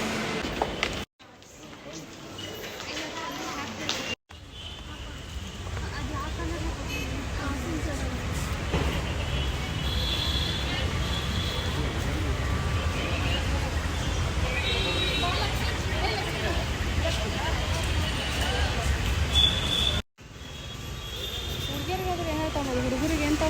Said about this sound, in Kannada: we are in Mantri square metro station